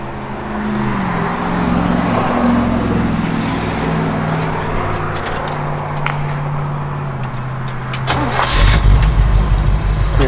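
A 1963 Chevrolet Impala engine, a mild setup without a big cam, cranking and settling into a steady idle; the low rumble builds and grows louder and fuller near the end.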